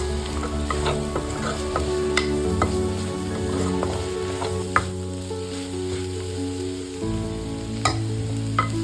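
A Sri Lankan cutlet mixture is stirred in a pan, with continuous sizzling and frying under repeated scraping and clinks from the utensil against the pan, close and steady throughout.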